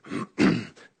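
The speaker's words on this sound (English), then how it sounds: "I may have to clear my throat a few times" A man with a raspy, congested voice clears his throat at a Senate intelligence committee hearing, two rough bursts followed by a shorter third, close and fairly loud in a quiet room.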